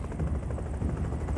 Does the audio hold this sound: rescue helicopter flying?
yes